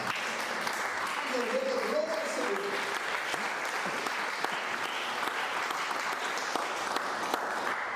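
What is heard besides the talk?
church congregation applauding the Lord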